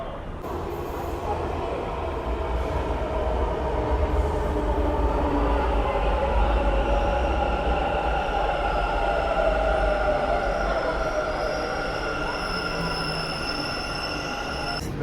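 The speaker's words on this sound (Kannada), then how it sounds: "national college metro station metro ಹತ್ಕೊಂಡು ಡೈರೆಕ್ಟ್ ಮನೆಗೆ ಹೊರಡೋದೆ" Continuous rumble and whine of a Bengaluru metro train in motion from National College station, a steady loud roar with rising electric tones, heard from inside the carriage.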